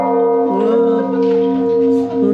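A large church bell in Panay, Capiz rings with a sustained, loud metallic tone and rich layered overtones that hang steadily throughout, with no talk over it.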